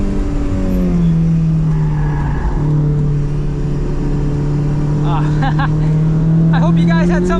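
Supercharged Mazda ND Miata driving on a race track, a loud steady engine drone from inside the car with pitch sweeping gradually, and a voice talking over it near the end.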